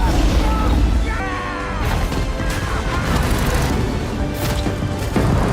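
Loud bursts of firecracker explosions set as a trap for a giant snake in the Amazon jungle film Anaconda, crashing booms and pops dense throughout under a busy film score, with voices mixed in.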